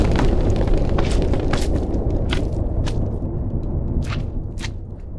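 Nuclear explosion in the Minecraft Rival Rebels mod, a loud sustained rumbling roar with crackling debris bursts throughout, dense and continuous from start to end.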